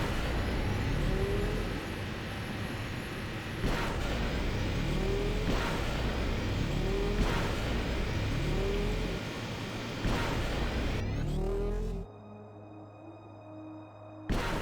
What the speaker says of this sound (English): It's so weird when the engine's cut out like that.